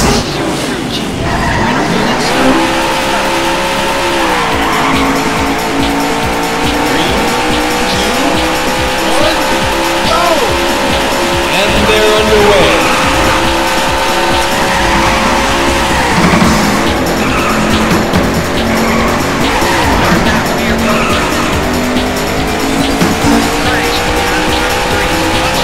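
Race car engines roar continuously in the arcade racing game Daytona USA, with tire squeal and skidding layered over a steady, loud, droning mix that shifts in pitch as cars accelerate and corner.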